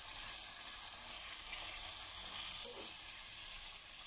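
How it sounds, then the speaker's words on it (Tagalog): Food sautéing in a pan for Filipino tinolang manok (chicken ginger soup), a steady soft sizzle and hiss running throughout with one brief sharp crackle near the end. "So, ayan, medyo nagigisa na siya."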